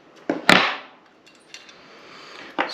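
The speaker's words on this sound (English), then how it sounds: "Break your Allen bolt loose." Sharp metallic clinks and a ringing strike come from a tool on an Allen bolt on a wood chipper shredder. A few brief knocks follow close by, then a faint scrape.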